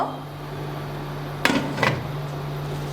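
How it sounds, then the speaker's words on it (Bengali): A lid goes onto a pot of hot syrup holding gulab jamun sweets made from powdered milk, giving two quick metallic clanks close by over a low, steady hum. "এখন ঢাকনা দিয়ে ঢেকে দিচ্ছি দুই মিনিটের জন্য"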